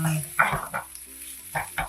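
Chicken fried rice sizzles in a hot pan, with a few close scraping stirs and clatters over a steady faint hiss, and no talk.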